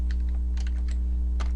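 Folder path being typed on a computer keyboard, a quick run of separate key clicks in small bursts, close and clear over a steady low hum.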